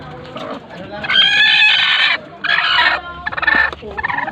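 Chickens at a home chicken farm during egg hatching give loud, close clucks and squawking calls in several bursts, with faint voices underneath.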